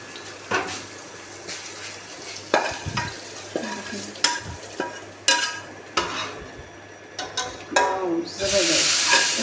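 Spiced masala tempering is poured into dal and stirred in a pot, giving bursts of close sizzling and scraping stirs, and ending in a loud, sustained hiss of frying.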